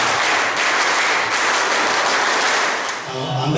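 A Scout group in Lhokseumawe, Aceh, performs the Pramuka clap, a dense burst of many hands clapping together, loud and steady for a few seconds.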